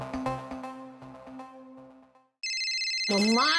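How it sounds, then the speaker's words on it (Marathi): A mobile phone ringtone plays loudly in a home scene from a Marathi TV serial. A plucked melodic tune is followed by a sharp electronic trill that rings steadily to the end. "मम्मा तुझा फोन."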